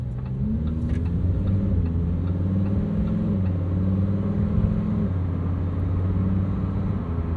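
A 2022 Lamborghini Huracán STO V10 with a 7-speed dual-clutch gearbox pulling in automatic mode, a loud steady engine drone heard from inside, the pitch climbing and dropping gently through smooth upshifts, with no talk.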